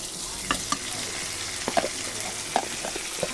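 New potatoes fry in a pan with onion, chili and a little spice, a steady sizzle punctuated by repeated scraping clicks of a stirring spoon.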